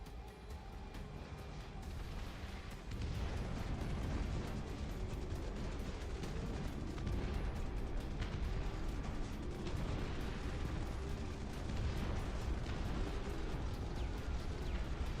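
Big bombs bursting in a continuous, dense rumbling barrage, loud and sustained with overlapping blasts and no clear gaps, with no voices in the clip.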